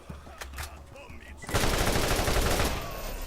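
Gunfire in Borderlands: a dense, loud stream of rapid shots that starts abruptly and keeps going to the end, after a quieter lead-in with faint talk.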